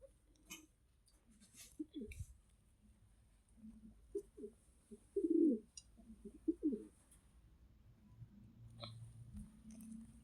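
Fancy pigeons, a white one among them, coo in soft low bursts, a few close calls clustered mid-way with a longer rolling coo near the end, over a faint background hiss.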